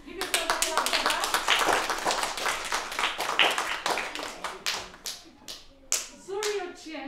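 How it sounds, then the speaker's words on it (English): A class of young children claps for themselves in a lively, uneven burst of close hand claps, with children's voices and chatter mixed in throughout. "Give yourself a clap for that."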